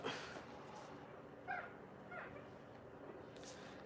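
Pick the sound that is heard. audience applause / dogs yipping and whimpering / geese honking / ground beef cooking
dogs yipping and whimpering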